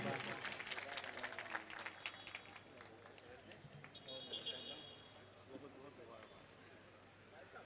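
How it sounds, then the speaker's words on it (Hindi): Audience applause at a mushaira poetry gathering in Surat, a broad wash of clapping hands that is loudest at the start and gradually thins and fades over several seconds, with no voices over it. "जरा जोरदार तालियों से अशफाक साहब का इस्तकबाल करें।"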